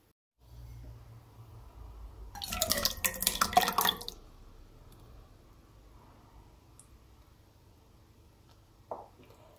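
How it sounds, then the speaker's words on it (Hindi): Tamarind pulp poured into a cooking pot for imli chutney, a brief wet splashing pour lasting a couple of seconds amid quiet kitchen background, followed by a faint clink near the end. "पॉट में जो है हम इमली का पल्प डालेंगे।"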